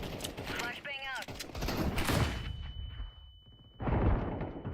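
Flashbang grenade in Counter-Strike 2 competitive play, a loud sharp bang with rumbling tail and a high ringing tone lingering after, then another burst of noise. A short voice line comes just before.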